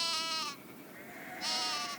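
Goats bleat in two loud, wavering calls with a pause between them, close by in a quiet rural setting with no talking.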